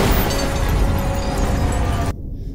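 Explosion destroying a satellite during a space battle in The Predator (2018), a loud sustained roaring blast that fills the soundscape and then cuts off abruptly, with no talk.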